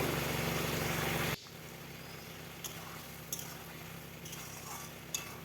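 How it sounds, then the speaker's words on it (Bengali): A spoon stirs a mixed vegetable curry with fried lentil dumplings just after garam masala goes in. A steady background hum cuts out, then a few faint, sparse clinks of metal on the pot follow. "গরম মশলাটা দিয়ে ভালোভাবে নেড়ে নেব ভালোভাবে যেন মিশে যায়"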